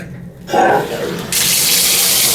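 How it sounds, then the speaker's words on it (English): Water gushes from a bathtub faucet in a Holiday Inn St. Louis Airport hotel room, starting abruptly and then running as a strong, loud, steady stream that fills the space alone. "Oh, the water pressure seems really nice."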